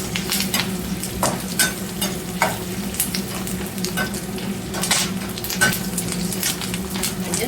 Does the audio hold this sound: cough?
no